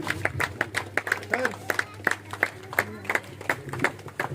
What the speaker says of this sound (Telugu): కొట్టాలి, క్లాప్స్